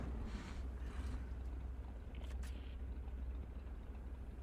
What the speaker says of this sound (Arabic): لا صوت محركك هذا طفي المحرك